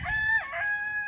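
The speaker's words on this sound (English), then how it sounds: "And my chickens down there." A rooster crows from a backyard flock, one clear, fairly quiet call with a rising start, a brief break and a long held ending, without any voices.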